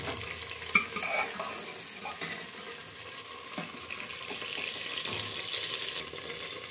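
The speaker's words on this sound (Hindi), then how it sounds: "गोभी हो चुकी है फ्राई, इसको निकाल लेंगे" Fried cauliflower pieces lifted out of a pan of hot oil, with a faint, steady sizzle and occasional scraping clinks of a spoon against the pan; no one speaks.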